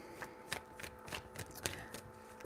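Tarot cards are shuffled in quick bursts, a rapid series of crisp riffling snaps and soft flicks close by, with no talking.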